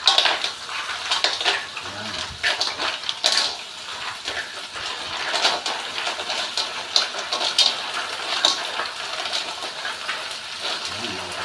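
Mussels sizzling in a hot pan: a continuous bright frying hiss with scattered pops and a few utensil clinks, steady and close.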